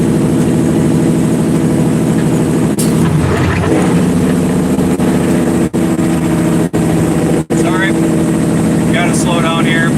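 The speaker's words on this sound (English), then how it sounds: "My truck's a little loud" A loud truck engine drones steadily while driving through heavy city traffic, its low rumble continuous and close throughout, with a few brief dropouts and a person talking over it.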